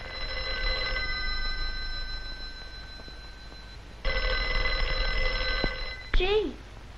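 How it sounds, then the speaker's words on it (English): A 1940s household telephone bell rings in two bursts, a bright metallic trill heard clearly and fairly close, separated by a pause, with a brief sweeping tone at the end. "that's Grandma's telephone ringing"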